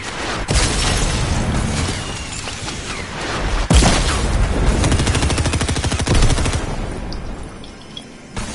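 Loud, continuous automatic gunfire in Fortnite, with rapid rattling bursts and a sharp crack partway through, close and dense, no talk over it.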